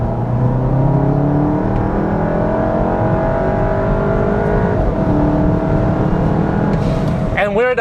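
Tuned mk7 VW GTI accelerating hard in second gear, engine note climbing steadily with a rising whir and roar, loud and close from inside the car, with a brief sharp chirp at the end.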